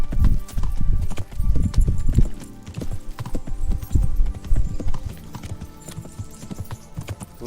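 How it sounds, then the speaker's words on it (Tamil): Horse hooves clip-clopping as a rider travels in the video game Kingdom Come: Deliverance, a loud, close, steady rhythmic trot with a faint hum beneath and no speech. "நடந்து போகிறத விட குதிரையில் போகிறது வந்து பெட்டராக இருக்கு ப்ரோ."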